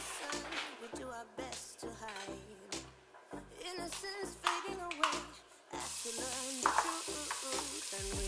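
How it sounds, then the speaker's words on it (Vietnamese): Garlic, onion and kimchi frying in oil in a pot, a loud crackling sizzle with repeated stirring and clattering utensil scrapes in an uneven rhythm, close by and with no talk. "Đầu tiên thì mình sẽ cho một ít dầu ăn vào nồi để mình phi thơm tỏi, hành và kim chi."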